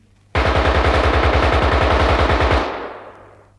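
A loud, close burst of rapid machine gun fire rattles for about two seconds in a radio play, then fades into a short ringing tail.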